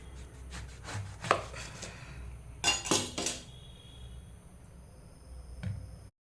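A knife slicing through a large round citron, or dodlikai, in a home kitchen, giving a few crisp cutting cracks and clinks against a board, close and fairly quiet, with no talking.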